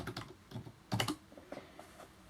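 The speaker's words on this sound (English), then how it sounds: "I'm using not a very good nice keyboard here" Typing on a low-quality computer keyboard produces irregular clusters of soft key clicks, close up, with one louder burst of several quick strokes.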